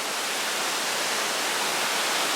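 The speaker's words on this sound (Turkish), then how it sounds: "Yani şelale dedikleri buysa bu Karasu Maden Deresi yani. O daha yüksekten akıyor. Bu bildiğin akar bir su." Steady rushing water of the Karasu Maden Deresi, a mountain stream in Georgia, flowing continuously as a dense, broadband wash heard close up, with no voices.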